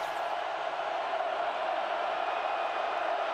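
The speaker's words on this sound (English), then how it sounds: "Listen to the crowd. They are involved." A big football stadium crowd at a USC at Oregon college game roars in a steady, dense wash of cheering that never lets up, loud and continuous with no distinct voices standing out.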